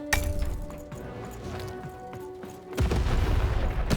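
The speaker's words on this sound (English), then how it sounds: "Shoot the button to fire the cannon." A cannon fires in Lost in Random, a deep booming blast with a crashing impact, loud and close against a background of game music.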